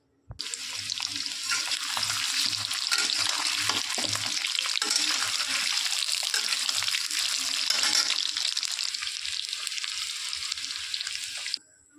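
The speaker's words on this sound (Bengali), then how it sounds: "এবার আমি ভালো করে এই সিদ্ধ করা আলু যেটা করে রেখেছি, আলুগুলোকে ভালো করে ভেজে তুলে নেব।" Boiled potatoes frying in hot mustard oil give a steady, loud hissing sizzle that starts abruptly and runs unbroken for about eleven seconds, with faint scraping underneath, then cuts off.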